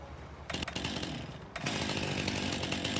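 A chainsaw in Farming Simulator 19 cuts down trees, its loud, steady engine whine starting after a brief pause and running continuously near and close, with a short break before revving back up.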